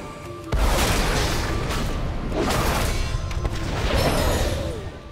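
Heavy cannon fire in the video game World of Warcraft booms out in a dense, sustained barrage of deep blasts and rumbling crashes, loud and close with no talk over it.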